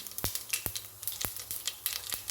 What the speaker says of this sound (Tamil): எண்ணெய் விட்டுருக்கேன் தாளிப்புக்கு கடுகு சீரகம் போட்டுக்கலாம்